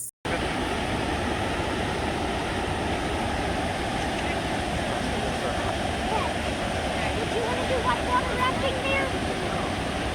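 Hidden Falls in Grand Teton National Park pours in a constant, dense rush of water, steady and fairly loud throughout.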